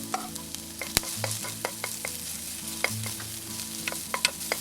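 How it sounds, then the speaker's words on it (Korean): Onions and carrots stir-fry in hot oil with a steady sizzle, while a utensil scrapes and taps the pan at a regular pace, close and clear. "늦게 익는 당근도 넣어서 볶아주세요."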